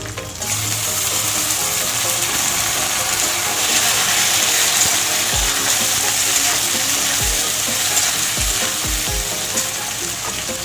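Onions frying in a pan as large-cut chopped tomatoes go in for a duck egg do-pyaza: loud, steady crackling sizzle throughout, with several low thumps and knocks from the utensil near the end.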